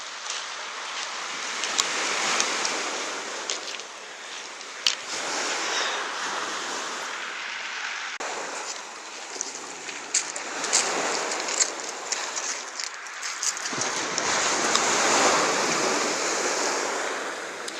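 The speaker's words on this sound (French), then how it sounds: "C'est le bruit de la mer." Sea waves breaking on a shore, a loud broadband wash that surges and recedes in repeated swells over the whole stretch, with no voices.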